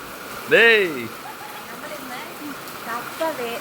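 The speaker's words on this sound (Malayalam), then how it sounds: "നല്ല ഉഗ്രം മഴയാണ് സുഹൃത്തുക്കളെ" Heavy rain pours down as a steady, broad hiss that fills the background beneath a person talking close by.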